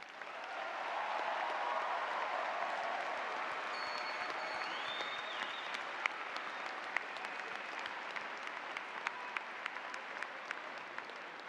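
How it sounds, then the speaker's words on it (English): A large arena crowd at a university commencement gives a long, steady round of applause, broad and somewhat distant, with a few sharper claps standing out. "Please join me in a round of applause for all of them."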